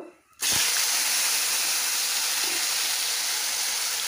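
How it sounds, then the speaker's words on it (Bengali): Vegetables drop into hot oil with panch phoron, setting off an abrupt, loud burst of sizzle that settles into a strong, continuous hiss of frying, with no talk. "এই সবজিগুলো দিয়ে দেবো, একটু ভাজা করে নেব।"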